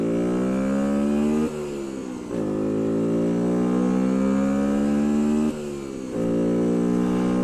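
A Bullit Hero 50cc motorcycle engine drones steadily while riding, its pitch climbing through each gear and dropping briefly at two shifts before rising again, loud and close.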